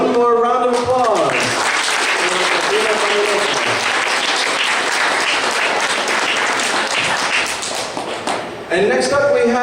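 A crowd at the Kraken Con 2014 costume contest claps loudly for an entrant, a sustained burst of applause. A host's voice is heard just before it and again as it fades.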